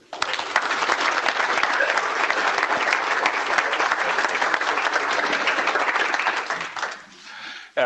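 An audience welcomes a lecturer at a precision medicine lecture series with sustained, dense applause from a roomful of people. The clapping fills the room evenly for several seconds, then fades out just before a voice begins.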